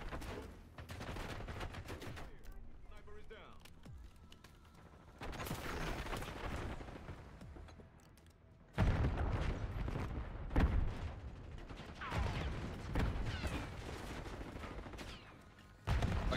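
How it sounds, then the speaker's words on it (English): Bursts of automatic gunfire and single shots ring out in a Call of Duty Hardpoint multiplayer match, loud and dense in clusters with brief lulls, sharp blasts stacking over a continuous battle din. "I guess I'm shooting rubber bullets today"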